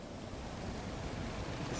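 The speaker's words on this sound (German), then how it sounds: "Das ist Wasser oder so." Water rushes in the video game Layers of Fear, a steady, dense roar of surging water that holds at an even level throughout with no talking.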